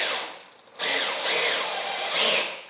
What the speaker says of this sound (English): we can then go ahead and start screwing it down